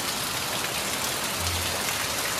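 Steady rain falls over a village, a continuous close hiss of drops that holds evenly for the whole stretch with no voices.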